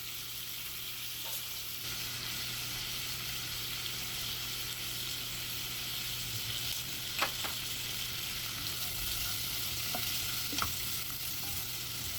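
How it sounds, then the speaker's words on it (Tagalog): Shrimp sauté in a pan with a steady close sizzle and a few faint clinks from stirring. No one speaks. "Ilagay na natin yung shrimp at igisa natin konti."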